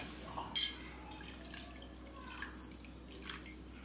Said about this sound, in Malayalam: ഇനി ഇതിലേക്ക് നമുക്ക് തണുത്ത വെള്ളം ഒഴിച്ചു കൊടുക്കാം.